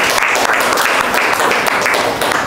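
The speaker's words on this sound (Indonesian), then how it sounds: "Tepuk tangan untuk kelompok 4." A room of participants claps for a presenting group in a lecturer training session, a short burst of dense, loud, continuous applause heard up close.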